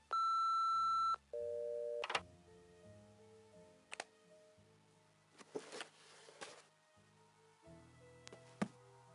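An answering machine beep in a Nancy Drew video game, with two steady electronic tones at the start followed by sparse clicks and small game sounds.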